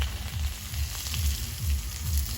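Steady sizzling of eggs frying in hot oil, with soft rhythmic stirring or scraping thumps underneath, close and fairly quiet.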